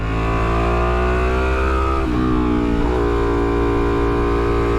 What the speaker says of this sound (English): Try to whack it open in first gear, get a little bit of a wheelie going